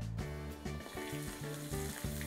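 Chopped onions hit hot oil in a heated wok, giving a steady crackling sizzle throughout, fairly quiet and close, with faint stirring underneath.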